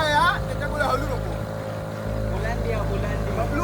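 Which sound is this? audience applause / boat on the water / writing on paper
boat on the water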